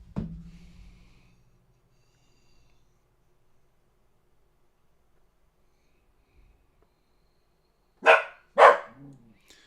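A dog indoors gives two sharp, loud barks close by, followed by a huffing snort. They come after a long quiet stretch that opens with a faint thud.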